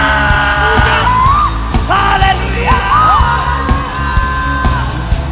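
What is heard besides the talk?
worship congregation shouting and yelling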